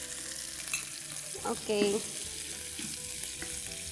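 A ground spice paste fries with mustard seeds and curry leaves in a pan, making a close, crackling sizzle with stirring scrapes. A voice says one brief word partway through.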